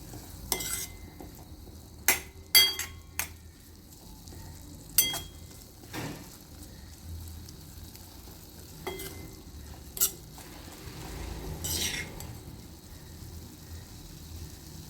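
Fenugreek greens stir-fry in a pan on the stove, with a low steady sizzle under repeated sharp scrapes and clinks of a spatula against the pan, spaced irregularly and heard up close with no talking.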